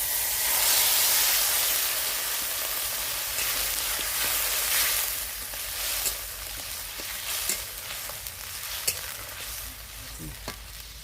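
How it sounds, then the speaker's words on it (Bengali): Water splashes into sizzling spice masala in a frying pan for a village-style vegetarian paneer curry: a loud hissing burst at first, easing into steady frying sizzle with scattered clicks of stirring. "মশলা কষে নেওয়া হয়ে গেছে, এবার আমি পরিমাণ মতো জলটা দিয়ে দেবো।"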